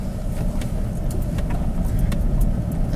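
A 4x4 crawling slowly downhill in four-low, first gear, on a forest road near Tulameen, with a steady low engine drone and faint rattles and clinks throughout.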